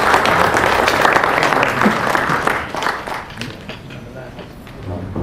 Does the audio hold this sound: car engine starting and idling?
no